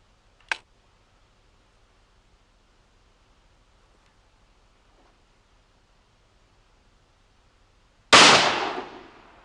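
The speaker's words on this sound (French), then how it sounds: "on vient de tirer avec ce 12 Magnum canon 3/4 de choc" A 12-gauge Magnum hunting shotgun with a three-quarter choke barrel fires once. A single loud, sharp blast comes after a long quiet stretch and a brief earlier click. Its broad roar decays over the last second.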